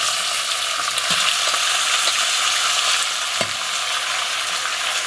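Leeks fry in hot olive oil in a saucepan over medium heat, giving a steady bright sizzle. A few soft clicks of stirring sound close by.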